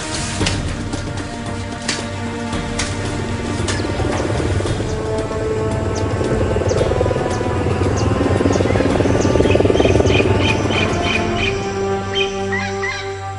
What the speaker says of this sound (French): Les premiers hélicoptères décollent pour tenter de localiser l'épave.